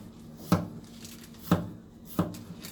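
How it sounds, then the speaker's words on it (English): A knife chops peppers on a board in three sharp, evenly spaced strikes about a second apart, close and quiet, with a faint hum beneath. "Just chopping up a few peppers."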